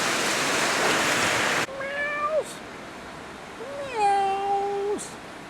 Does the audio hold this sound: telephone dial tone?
no